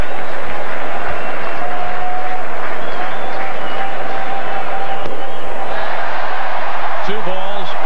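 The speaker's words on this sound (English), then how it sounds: "the crowd gets louder with every ball that's been thrown" Crowd noise at a 1993 Expos vs Phillies baseball game rises and swells in the stadium, a broad roar running steadily under a commentator's voice.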